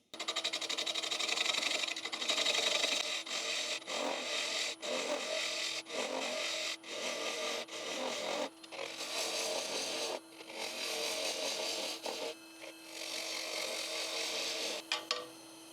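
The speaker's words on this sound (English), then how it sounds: "I just use my half-inch bowl gouge to take these foot off" A half-inch bowl gouge cuts a thin maple crotchwood bowl on a lathe, giving a steady, loud scraping hiss broken by brief pauses as the tool lifts off the wood.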